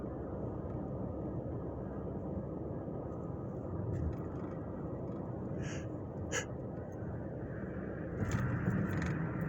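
Steady road noise from a car on the highway, a constant low rumble from inside the cabin with a few faint clicks and a slight swell near the end.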